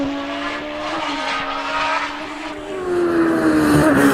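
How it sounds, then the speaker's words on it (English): Loud, close supercharged Force hillclimb race car engine howling at high revs on a hillclimb course as it exits a bend, the pitch climbing toward the end with no voices over it. "just listen to the sound of this engine."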